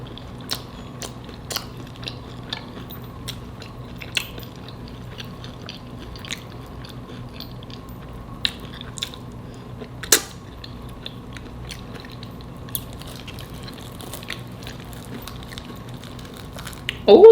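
Someone chewing homemade chicken pot pie spaghetti bake, with soft, sparse bites and crunches heard close up over a quiet room hum.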